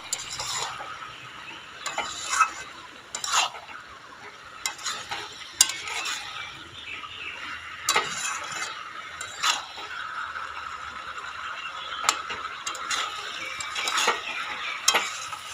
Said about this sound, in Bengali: আলু আর কাঁঠাল ভালো করে আবার কষিয়ে নেব।